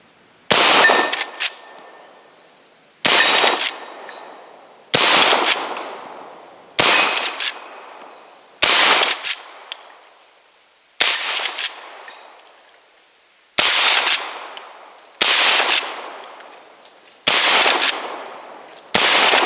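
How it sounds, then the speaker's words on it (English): A Henry Big Boy Silver .357 Magnum lever-action rifle fired at steel targets outdoors, ten evenly spaced sharp cracks each followed by a ringing metallic clang that decays before the next shot. "Alright, this is our last 10 shots."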